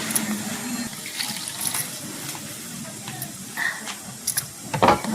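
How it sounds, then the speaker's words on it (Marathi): Green mangoes are rinsed and swished in water, with splashing and trickling under a steady watery background, plus a few sharper clatters near the end and faint voices. "2 3दा झालं धुवून"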